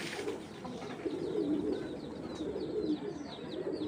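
A Giribaz pigeon held in the hand coos in soft, low, repeated throaty pulses, close and fairly quiet, with faint higher chirps above.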